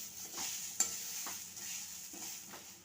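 Grated fresh coconut, with dried coconut, roasting in a pan for a traditional Konkani red chickpea usal, giving a quiet, steady hiss with several soft scraping stirs and one sharp clink of a spoon against the pan.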